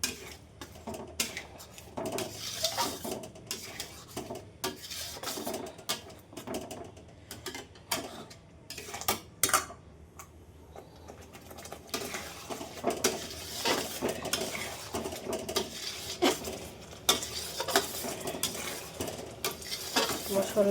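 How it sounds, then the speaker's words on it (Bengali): Masala with ground nut, melon seed and raisin paste being stirred and fried in a pan, with steady scraping and clinking of a spoon against the pan over a low sizzle, continuing throughout. "ভালো করে মশলাটা কষিয়ে নেব"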